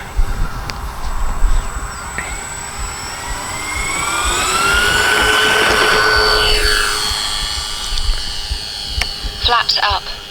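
A Dynam B-26 Marauder RC model plane on its maiden flight takes off with flaps set, its electric motors rising to a steady whine that swells and fades, and someone speaks briefly over the noise.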